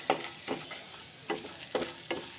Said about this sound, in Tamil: உளுத்தம்பருப்பு துவரம்பருப்பு கடலைப்பருப்பு மூணுத்தையும் நான் சேர்த்துட்டு இதை வந்து நம்ம நல்லா செவக்க வறுத்துடலாம்